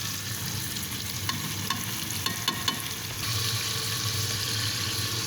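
Garlic paste, tomatoes and spices frying in a pan while being stirred, a steady close sizzle with a few light clinks of a spoon against the pan partway through, no voices.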